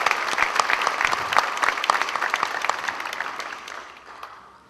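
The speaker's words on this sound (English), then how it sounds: "giving a round of applause to all the parents and faculty" Audience applause at an adult school graduation ceremony, a dense crowd of clapping that stays loud and steady, then thins and fades out over the last second.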